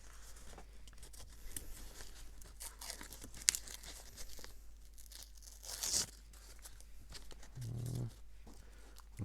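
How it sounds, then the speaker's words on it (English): Paper pieces torn out by hand for a stained glass craft, giving a few quiet, short ripping bursts against a soft background. "I want to tear this bit out as well"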